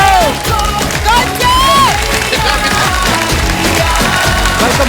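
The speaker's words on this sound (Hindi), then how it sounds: "आप सबकी जोरदार ताली के बीच प्लीज वेलकम मिस्टर जय भानुशाली" Studio audience at an India's Best Dancer comedy show applauds steadily, a dense wash of clapping under loud music with a strong beat and sung or tonal melody running throughout.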